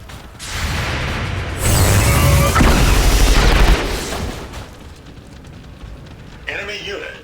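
A mech unit is destroyed in the XCOM 2 video game: loud metallic clanking and creaking break into a heavy, sustained explosive burst, then fade into a lower rumble with a brief flare of debris near the end.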